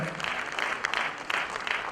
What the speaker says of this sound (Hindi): जरा जोरदार तालियां होनी चाहिए